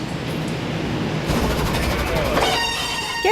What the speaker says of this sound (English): This is the Canadian, a legendary line of stainless steel trains with a storied past.